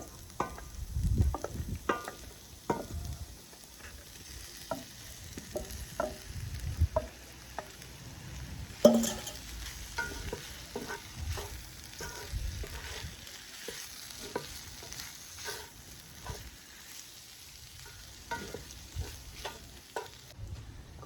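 Venison pieces and softened onion fry in a pan for a backyard-cooked deer varuval, a low crackling sizzle punctuated by repeated spatula scrapes and clanks, close and fairly quiet, with no voices.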